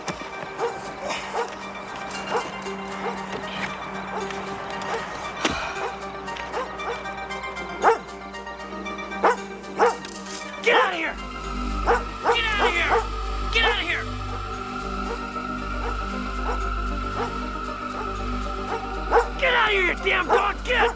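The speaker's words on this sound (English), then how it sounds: "Will you stop barking?" A dog barks repeatedly in a late-1980s TV movie scene, sharp yips and barks scattered through the clip and loudest in the second half, mixed with people talking and a rumbling background.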